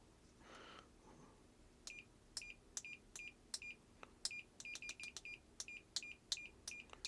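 A Fluke multimeter in continuity mode gives a rapid series of short, sharp beeps, irregular quick taps clustered close together, faint and nearby against a quiet background.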